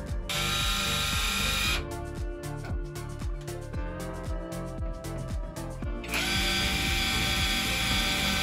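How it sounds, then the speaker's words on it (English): Power drill driving screws into the metal roof of a converted school bus for a roof fan install, a loud continuous whirring with a rapid ratcheting stretch in the middle, close and alone. "we screw holes in the four corners so that we knew where we were going to do it on the roof"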